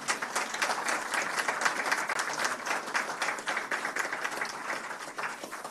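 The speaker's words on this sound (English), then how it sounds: "I think we should give this team a very good round of applause." A full room claps steadily for a team at a media and digital platforms market inquiry, dense even applause sustained at moderate loudness throughout with no voices on top.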